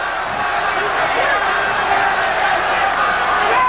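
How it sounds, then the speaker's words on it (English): A boxing crowd roars steadily in support of Alexis Arguello during his fight with Aaron Pryor, a dense, loud wash of cheering voices filling the arena throughout. "Crowd really into this fight, as you can hear."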